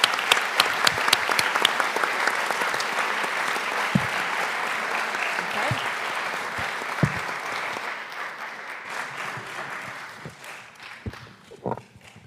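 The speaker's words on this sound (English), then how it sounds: "Would you please share a round of applause for the teachers that make this happen?" An audience at a school board meeting applauds for teachers, a sustained, even clapping that slowly thins and fades out at the end.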